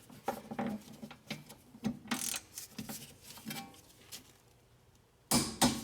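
Bolts on a Honda CR-V rear wheel bearing are torqued down with a ratchet, giving bursts of quick clicking strokes and metallic taps, close by with short pauses between, ending in a louder clatter.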